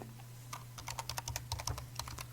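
Quiet, quick typing on a computer keyboard, a loose run of separate key clicks over a soft background hum, with no voices.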